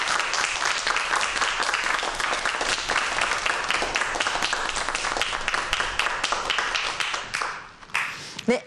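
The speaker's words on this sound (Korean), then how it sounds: "함께 박수로 환영해 보도록 할까요?" A studio audience gives sustained applause to welcome a professor onto the stage: dense, loud clapping that runs steadily for several seconds before thinning to a few last claps.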